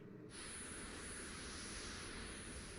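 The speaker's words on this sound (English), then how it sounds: "and turn on the engines" F-22 Raptor engines in Microsoft Flight Simulator 2024 spool up abruptly into a steady, broad jet roar with a high whine on top, holding constant and quiet after the sudden onset.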